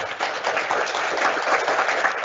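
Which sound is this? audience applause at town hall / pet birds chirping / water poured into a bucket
audience applause at town hall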